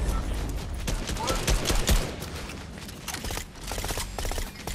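Rapid video game gunfire, a dense volley of sharp repeated shots crackling close and loud throughout, briefly thinning in the middle, with a voice talking over it.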